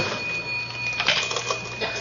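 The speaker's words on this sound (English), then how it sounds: "Let's go through the cash register." An old-fashioned cash register is operated as a sound effect in a 1947 radio comedy show, a run of mechanical clicks, clacks and a faint ring over a soft, hissy background, moderately close, with no talk over it.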